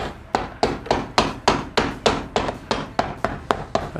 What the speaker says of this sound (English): I'm just going to hammer down these stitches a little bit more.